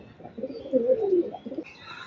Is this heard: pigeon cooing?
yes